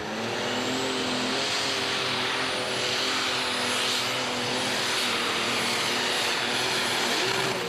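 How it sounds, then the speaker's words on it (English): An Old School Oliver lightweight super stock pulling tractor revs hard after its driveline breaks at a charity tractor pull in Hillsboro, Wisconsin. The engine screams loud and high, a continuous roar with a rising whine that sounds close. "something broke in the driveline there, as you can see, and immediately that engine just zinged up to the moon, wicked RPMs"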